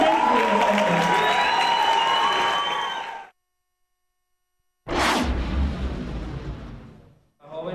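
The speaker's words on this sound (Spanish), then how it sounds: "un fuerte aplauso para estos estudiantes de la comunidad" An audience at a school event applauds students, clapping under an amplified voice, then a stretch of silence before more clapping resumes and fades.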